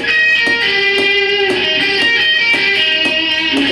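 An electric guitar picks a repeating arpeggio pattern across strings 4, 3 and 2, each note ringing clearly in a steady, even rhythm, loud and close with no voice over it.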